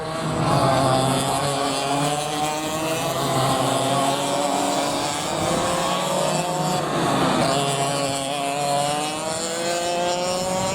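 Ka2 racing karts run round a track on a formation lap, several engines blending into a loud, continuous buzzing drone that swells and fades slightly as they pass, with no talk over it.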